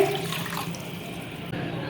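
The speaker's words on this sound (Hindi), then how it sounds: "ये हमने एक पैन लिया है, इसमें 2 कप पानी शामिल करेंगे" Two cups of water poured into a cooking pan for making jelly, a steady close rush of running, splashing liquid throughout, alone with no talking.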